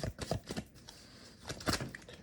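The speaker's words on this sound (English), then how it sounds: "We're going to give this a good shuffle." A deck of tarot cards is shuffled by hand, producing soft, quick papery flicks and taps in short bursts, close by and fairly quiet, with no one speaking.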